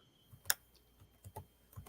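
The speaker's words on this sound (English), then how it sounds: "while Kale is typing this out" Soft, sparse keystrokes on a computer keyboard, a handful of quiet clicks arriving in irregular bursts with one sharper tap, close by and with no voices.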